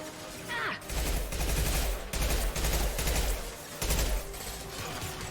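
Impact-shot gunfire in the sci-fi shooter Mass Effect 2: rapid bursts of heavy automatic fire repeat in several loud volleys separated by short pauses, with a faint voice in the background.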